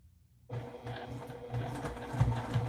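Sewing machine tacking down stitches on a quilt panel: a close mechanical whirring hum that starts abruptly and runs steadily with a rapid rhythmic clatter.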